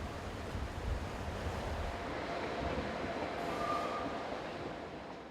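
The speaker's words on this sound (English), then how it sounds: "A Class 500 intercity unit heads south, forming train IC 677, the 1309 from Zurich to Chiasso." A southbound Swiss Class 500 intercity train on the Zurich to Chiasso run passes beneath a mountain, heard as a steady, broad rushing roar with wind-like noise that holds throughout and eases slightly at the end.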